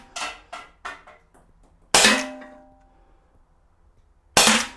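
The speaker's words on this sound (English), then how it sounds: "It seems to be shooting pretty nice." An Umarex T4E Walther .43 caliber CO2 blowback paintball pistol fires outdoors, several sharp close pops, a quick trio first, then two louder spaced shots with brief ringing tails.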